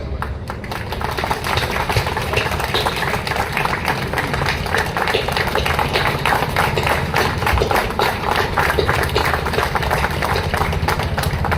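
Sustained applause from an audience rising to honour the Chief Justice at the inauguration of an ADR building in Karwar, a dense, steady patter of many hands clapping throughout with no talk over it.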